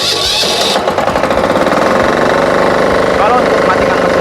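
A Firman FTI2010DE diesel mini four-wheel tractor is cranked by the starter on a dry field. A quick run of chugging pulses catches into a loud, steady, close diesel idle.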